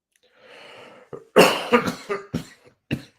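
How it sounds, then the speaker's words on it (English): A few rough coughs close to the mic, preceded by a breathy exhale, with short pauses between bursts. "Who's got the cough at the moment?"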